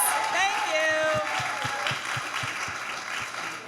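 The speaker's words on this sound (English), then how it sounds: "Can we have another round of applause" Audience applause at the InCharge Conversations 2020 event, following a performance, forms a steady, moderately loud clapping wash with sustained tones sounding over it.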